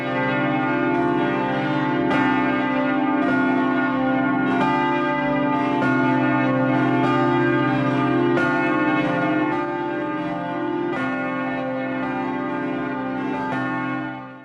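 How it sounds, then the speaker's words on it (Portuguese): The church bell of the Basilica of Our Lady of Aparecida in Brazil rings repeatedly in a slow, regular rhythm, rich ringing tones overlapping and sustaining, loud and resonant throughout. "Você também pode usufruir do som desse sino todos os dias aqui"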